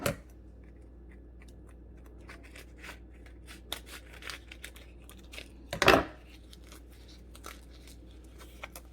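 Scissors snip the stems off dried chiles, a scatter of quiet, sharp clicks and rustles spread over several seconds, with one louder crinkling cut partway through.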